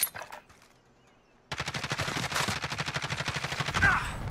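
Rapid automatic gunfire in Call of Duty: Warzone erupts after a quiet opening and keeps up as a steady, loud, close rattle of shots to the end.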